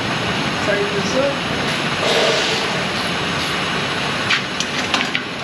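A car engine idles steadily inside an auto repair shop during a wheel alignment, a continuous broadband hum that holds at an even level throughout, with a few faint clicks and knocks near the end.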